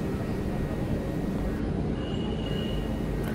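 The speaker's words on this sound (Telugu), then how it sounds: "ట్రైన్ వచ్చి దాదాపు గంటకి 125 నుంచి 130 కిలోమీటర్ల స్పీడ్లో ట్రావెల్ అవుతుందండి" Train cruising at roughly 125 to 130 km/h on the Bhimavaram to Sabarimala route via Vijayawada, heard from inside a 2-tier AC coach as a steady, unbroken rumble and rush with no talk.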